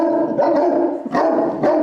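Two dogs just rescued from a house fire bark and whine in close, loud, continuous vocalizing, with sharper bursts of barking recurring about every half second to second, no one talking over them.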